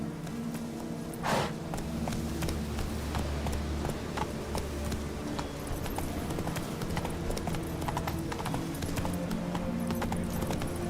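Rhythmic clip-clop of horse hooves trotting at a steady pace in a video game, continuous and fairly close, over a low background hum.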